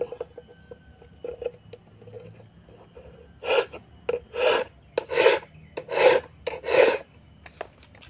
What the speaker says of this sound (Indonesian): apabila masih sempit juga, tinggal kita kikir lagi, dikit lagi seperti ini